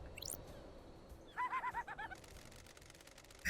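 Birds call on an island in the video game Paradise Killer, a quick run of soft, evenly spaced cooing notes in the middle, faint against a quiet hiss, with a brief chirp near the start.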